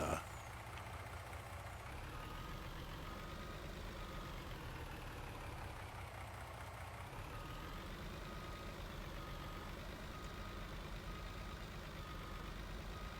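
A steady, droning water truck engine in Farming Simulator 19 hums continuously, with its pitch slowly rising and falling and faint tonal reversing beeps woven in, even and moderately quiet.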